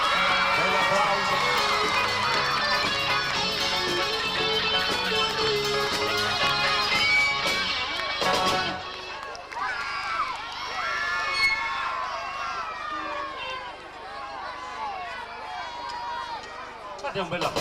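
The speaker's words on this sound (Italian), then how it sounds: "Evviva le fontanelle! Un applauso." A large crowd at a 1997 neighborhood gathering in Rione Sanità's Fontanelle area cheers, whoops and shouts loudly and continuously, a dense wall of voices that thins a little after the midpoint but keeps going.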